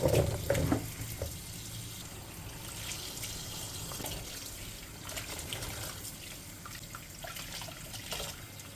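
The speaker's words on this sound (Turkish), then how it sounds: "ürünleri suya bastıra bastıra e, bu şekilde 3 kez yıkadım" Grapes being washed by hand, pressed down into a basin of water, giving a steady running, trickling water sound with soft splashes near and close throughout.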